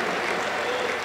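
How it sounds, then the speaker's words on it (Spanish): Applause from a congregation fills a Pentecostal church service, with a steady, dense wash of clapping that runs without break through the short moment. "Aplausos para el Señor Jesús."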